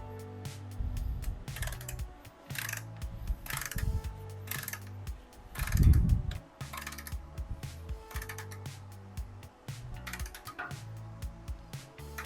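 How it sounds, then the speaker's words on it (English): A torque wrench tightens a motorcycle's rear axle, giving quiet, close mechanical clicks and ratcheting taps in irregular bursts, with one louder clunk midway and no talking. "Now we're just gonna torque down our rear axle"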